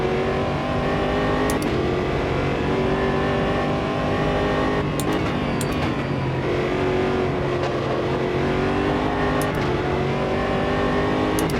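A powerful P1 prototype race car engine in the racing game Automobilista 2 revs continuously and loudly, pitch climbing and dropping through repeated gear shifts, with no talk.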